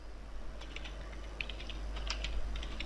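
PHP code typed on a computer keyboard, with soft irregular key clicks in short bursts over a low steady hum, close and fairly quiet.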